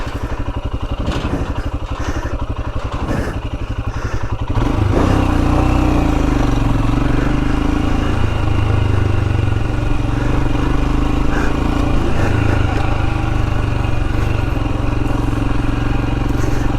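A Royal Enfield Himalayan motorcycle engine runs on a green lane along the Trans-European Trail. It idles with a throbbing thump, then pulls away into a loud, steady droning rumble that carries on to the end.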